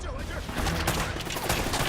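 Rapid gunshots in the video game Uncharted: Drake's Fortune crackle in a dense, continuous burst, loud and close, with a voice talking over the firing.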